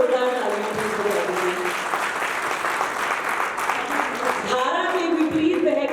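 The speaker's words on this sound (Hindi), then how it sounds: "उसके लिए एक बार जोरदार तालियां।" Enthusiastic crowd applause at an Arya Samaj independence-anniversary gathering in Kharar, a full steady wash of clapping with a voice speaking over it near the start and again toward the end.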